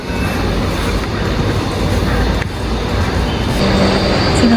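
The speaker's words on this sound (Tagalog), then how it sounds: "So, nandito na ako sa train." Inside a moving train in Hong Kong, a steady loud rumble and rushing roar fills the cabin, with faint background voices.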